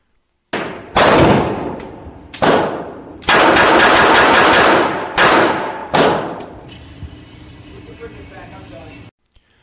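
Rapid pistol shots from a Taurus PT22 and a Beretta 21A Bobcat at a shooting range: loud, sharp cracks in quick bursts and single reports with short pauses between, ending in a brief quiet tail.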